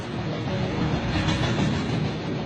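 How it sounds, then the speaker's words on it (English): Carajás freight train with a high-powered helper locomotive coupling on at speed, a steady rumbling roar of wagons and wheels on rails, continuous and moderately loud. "this super-powered loco links up with the Carajás train to give it an extra boost"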